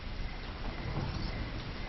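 Heavy rain falls in a steady, dense hiss with no break, filling a short film scene, with no voices.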